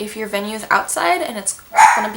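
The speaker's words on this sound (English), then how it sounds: "That's my dog." A pet dog named Molly barks a few short, sharp times close by, mixed in with a person talking.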